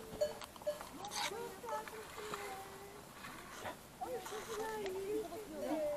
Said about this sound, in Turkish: Önümüze keçiler çıktı. Keçi sürüsü.